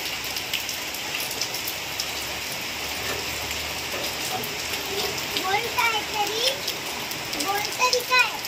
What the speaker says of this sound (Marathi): छान पाऊस पडतोय